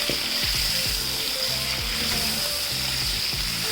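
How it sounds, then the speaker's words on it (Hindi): Chicken fries in hot oil for a korma. A loud, continuous close-up sizzle runs throughout with a dense scatter of low bubbling pops, and nobody talks. "अच्छे से फ्राई करेंगे हम पहले चिकन को"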